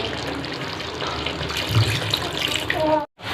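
Water gushes from a vessel onto chicken in a curry pot, a loud, close, continuous pouring that stops abruptly near the end.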